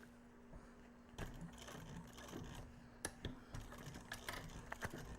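Sewing machine top stitching a leather wallet, running in fast rhythmic bursts of needle clatter with short stops between runs, close and fairly quiet.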